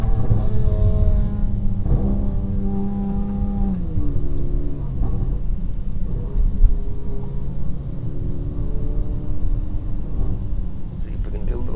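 Porsche Macan engine idling as it warms up, a steady low rumble with a few faint shifts in pitch, close by and running under people talking.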